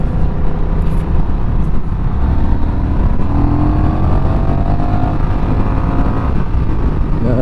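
A 2021 Honda CMX1100 Rebel DCT motorcycle engine pulling hard through an overtake, a loud continuous engine roar mixed with heavy wind rush, steady and close for the whole stretch.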